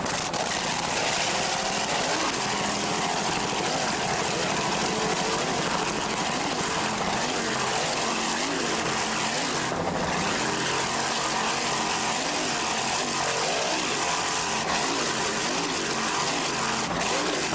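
A racing powerboat runs at full throttle in an APBA national points race, its engine a loud, continuous, steady roar that fills the whole stretch with no pauses.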